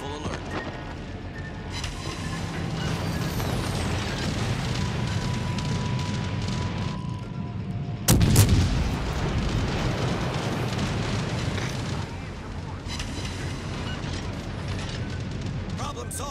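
Torpedo strikes in a naval warfare game build from a constant heavy rumble of battle to one sudden loud boom at the midpoint, followed by continued low roaring, with voices speaking over the din.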